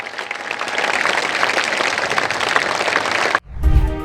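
Sustained crowd applause with dense, steady clapping for several seconds that then cuts off abruptly into a low rumble.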